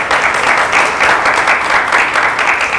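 A small group applauds during a casual nail-artist talk, a loud, close burst of clapping in steady overlapping waves lasting a few seconds.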